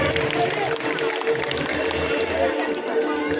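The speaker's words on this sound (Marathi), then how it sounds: "जोरदार टाळ्या एकदा परत स्मितीसाठी" Audience applause and cheering at a children's dance performance in a park cultural program, a steady dense clapping from a crowd with chatter mixed in, sustained and fairly loud throughout.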